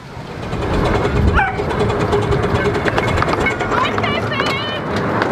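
Loud rumble and clatter of a train pulling slowly into Ferry Meadows station, with squealing wheels and brakes, while people talk and children shout nearby.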